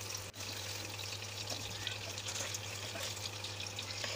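Pabda fish frying in oil in a pan, making a steady, fairly quiet broadband sizzle and hiss that runs unbroken throughout with a single brief dip.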